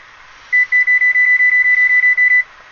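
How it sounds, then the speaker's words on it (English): Kitchen timer being set before bacon goes into the oven: a clear run of about a dozen quick, evenly spaced high-pitched beeps, loud and close against a quiet room. "We're gonna set our timer here for"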